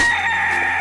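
A rooster crows in the chicken game CHKN, one short, loud, bright cock-a-doodle call heard close with no talk.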